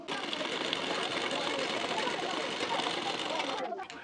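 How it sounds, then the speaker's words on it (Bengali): A sewing machine running continuously at speed, stitching along the edge of a blouse hook strip; the close, even buzzing whir stops abruptly near the end. "পট্টির ঠিক কানা বরাবর করে একটি চাপ সেলাই দিয়ে নেবেন"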